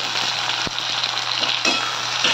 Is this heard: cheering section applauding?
no